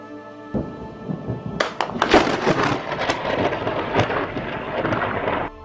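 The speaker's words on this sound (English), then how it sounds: "Thunder, not really a disaster, but still very dangerous for humans." Thunder cracks and rumbles during a night storm, a sharp burst followed by continuous rolling, crackling noise mixed with heavy rain, loud throughout.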